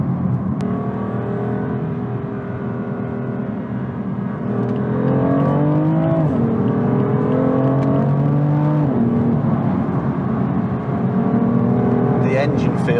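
A BMW M4 twin-turbo engine pulls steadily under acceleration while driving, its droning note rising and shifting pitch, with a speaking voice over the engine.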